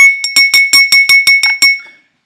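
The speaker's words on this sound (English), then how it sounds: "here's me getting a glass and a spoon." A glass struck repeatedly with a spoon gives about nine even, rapid, ringing clinks that are loud, close and bell-like, then stop and fade to silence.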